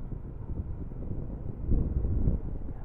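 Seaside wind buffets the microphone in low, rumbling gusts that swell louder toward the end, with no talking.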